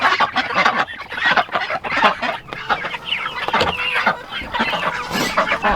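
A flock of chickens in their coop, with new chicks recently added, clucks and squawks loudly and continuously, close by, with overlapping calls and no talking.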